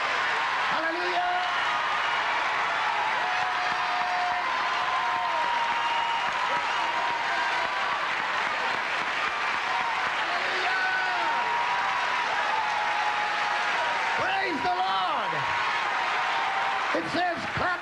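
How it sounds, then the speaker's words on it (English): A church congregation at Lakewood Church in 1986 gives a long, loud ovation, with sustained applause and crowd noise filling the whole stretch, broken by scattered whoops and cheers and occasional voices rising above the clapping. "go ahead and give the Lord the biggest ovation of the whole night"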